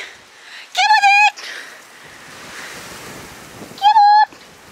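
Steady wind rushes and buffets the microphone outdoors around horses, a broad continuous roar with two brief high tonal calls breaking through.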